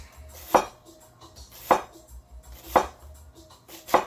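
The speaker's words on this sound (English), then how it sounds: "It's thick, but it cuts well. It separates well. I like it contacts the cutting board nicely." A thick Coolina Serbian cleaver chops through food onto a cutting board, four sharp, evenly spaced knocks with a ringing edge, close and alone without talk.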